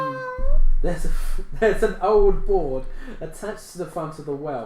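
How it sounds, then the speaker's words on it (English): A cat meows as a sound effect in a tabletop adventure game, a short rising cry at the start, followed by a narrator speaking over the rest. "You can hear a faint meowing coming from the darkness."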